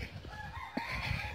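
Laying hens in a grandmother's farmyard coop cluck and squawk in short bursts over a steady bed of bird chatter, with a rooster-like call rising briefly; close and moderately loud, no talking.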